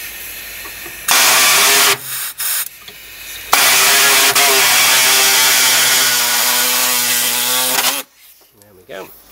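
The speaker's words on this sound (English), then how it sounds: "You need to cut a slit as shown here" A loud power tool cuts a slit in the steel body panel of a Mk1 or Mk2 Mazda MX-5, screaming in two bursts with a brief pause between them before stopping abruptly.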